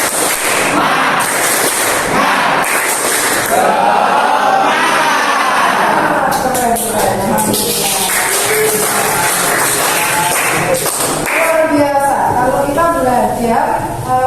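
A class of students performs a rhythmic clap cheer, loud children's voices chanting and shouting in unison, punctuated by sharp bursts of group clapping that come and go in patterned groups.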